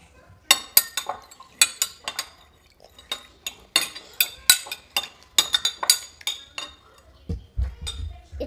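A spoon mixing food in a dish makes a steady series of bright clinks and taps against the side, irregular but continuous, close up, with a low thump near the end.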